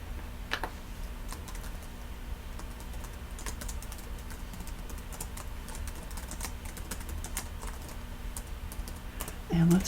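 A URL is typed on a computer keyboard in a steady run of quick keystrokes, close and clear over a low hum, with a brief louder noise at the very end.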